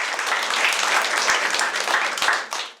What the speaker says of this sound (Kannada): ಜೋರಾಗಿ ಚಪ್ಪಾಳೆ ಆಗುತ್ತೆ.